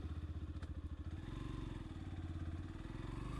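Yamaha FZ V3 motorcycle engine starting and settling into a steady, throbbing idle, its rhythmic low pulse continuous and close throughout.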